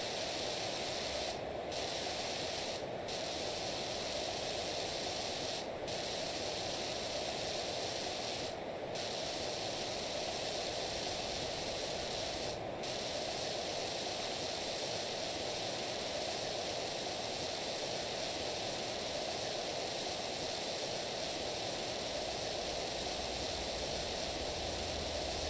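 Steady broadband hiss of a pressure washer spraying water in PowerWash Simulator, continuous and fairly loud throughout with a few faint brief clicks near the start.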